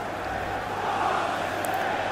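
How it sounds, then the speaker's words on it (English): Stadium crowd noise at the Etihad Stadium in the video game FIFA 19 during a Champions League quarter-final between Man City and Monaco, a steady broad roar of many voices with no individual shouts standing out. "The crowd will be getting up to cheer Man City on."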